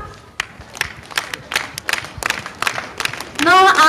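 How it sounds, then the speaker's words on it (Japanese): Audience at a spring festival stage show in a shopping mall hall clapping in rhythm, sharp claps spaced roughly every quarter second, moderately loud and reverberant, ending in a louder burst of music or voice. "皆さん手拍子お願いします。"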